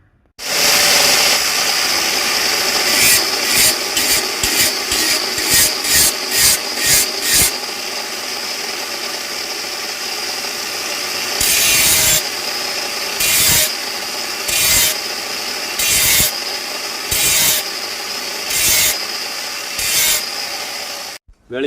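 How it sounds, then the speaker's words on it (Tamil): Coconut shell is ground on a handheld grinding machine, a loud, close whirring rasp broken by repeated short bursts as the tool is pressed and lifted against the shell. "கிரைண்டிங் மிஷினில் தேய்ச்சி இதை மொத்தம் கிரைண்டிங் பண்ணிவிடுவோம்."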